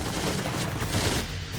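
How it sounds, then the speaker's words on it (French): German MG-42 machine gun firing in a rapid, continuous burst, a dense loud roar of gunfire with no clear pauses throughout. "Le Canadien est pris pour cible par la redoutable mitrailleuse MG-42."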